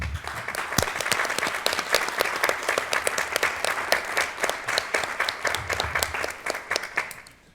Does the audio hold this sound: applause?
yes